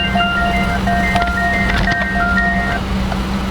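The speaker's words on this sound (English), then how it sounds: "I also love there's a chime if you leave the lights on." Lights-on warning chime in a 2016 Peugeot 308 HDi Allure hatchback, a repeating electronic tone pattern sounding clearly over a steady low cabin hum, close and loud with no speech.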